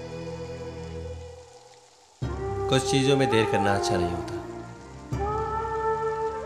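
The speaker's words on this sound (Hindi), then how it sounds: "बारिश बहुत तेज है" Heavy rain pours down at an outdoor cremation pyre, a steady wash heard beneath a spoken line and swelling dramatic music.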